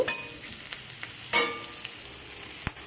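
Garlic, onion and chili frying in a pan while greens are cooked, a steady quiet sizzle broken by a few sharp stirring clicks and scrapes, close and alone with no talk.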